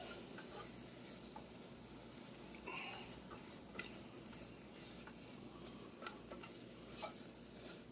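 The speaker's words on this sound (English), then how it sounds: "And then we're just going to stir that around." Sauce ingredients, including onion, being stirred in a pot for homemade Sunday gravy: a quiet, steady scraping and sloshing with faint scattered ticks and clicks of the spoon, no talking.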